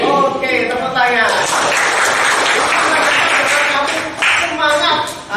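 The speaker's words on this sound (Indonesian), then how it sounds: "Oke, tepuk tangan." A class of schoolchildren claps hands together in a steady burst of loud, close applause. Children's voices and cheering are mixed in through the claps.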